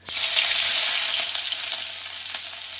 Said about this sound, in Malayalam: നമുക്ക് ചെറിയുള്ളി ഇട്ട് കൊടുക്കാം.